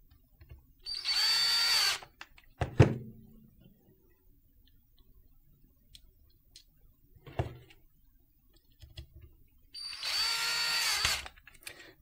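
Small screws being removed from an inexpensive IKEA Bluetooth speaker with a power screwdriver, two sustained whirring bursts at the start and end with a sharp click and a few faint knocks between, close and alone.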